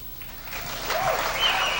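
Applause from an audience at a corporate awards program, a dense wash of clapping that builds from quiet to steady and full over a couple of seconds, heard alone without any talk.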